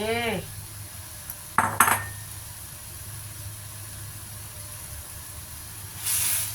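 Beef scraps go into a pan for a Thai beef and eggplant curry, with a sharp clatter of metal utensil against the pan in a brief burst over a low, steady background hiss.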